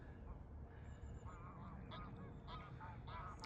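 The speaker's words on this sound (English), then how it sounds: "Ducks there, quack, quack, quack." Ducks at Swinsty Reservoir in the Yorkshire Dales call a few times in short nasal quacks and honks. The calls are faint and some distance away, over a steady outdoor rumble with no wind.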